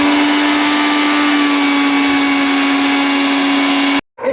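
A spice grinder whirs loudly and steadily, reducing a cooled, lightly roasted spice mix to powder for chicken maharani, its motor droning without a break for about four seconds before cutting off abruptly.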